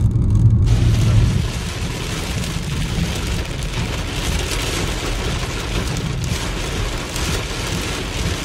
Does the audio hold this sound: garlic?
no